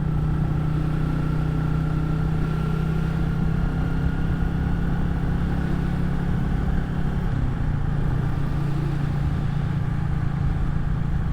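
Royal Enfield Classic 350 motorcycle engine idling smoothly, a steady low thumping drone that stays loud and even throughout with no talking.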